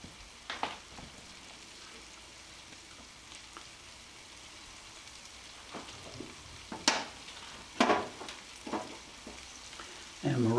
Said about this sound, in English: Let them saute for another minute, get them good and tender